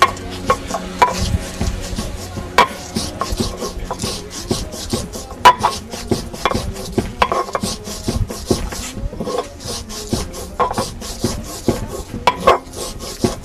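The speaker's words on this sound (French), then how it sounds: "Ah, on mélange le piment avec de l'api." Chili pepper being mixed by hand with api in an Ivorian kitchen, giving steady close rubbing and rasping scrapes with scattered sharp knocks, no talking.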